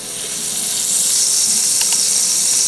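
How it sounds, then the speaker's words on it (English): Oil and butter sizzle in a pan for a cheese steak tortellini pasta, a loud close hiss that swells slightly and then holds steady with no talking. "we're gonna add a little bit more oil and some butter"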